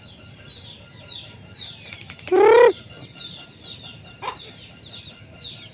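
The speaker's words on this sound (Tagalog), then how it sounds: "Yung ating ibang mga ibang manok. Andun." Backyard chickens are being fed rice and cluck softly and intermittently, close by. One bird gives a sudden loud squawk midway through, followed by a shorter call a little later.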